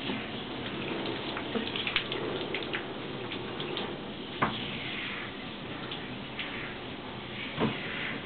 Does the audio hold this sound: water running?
yes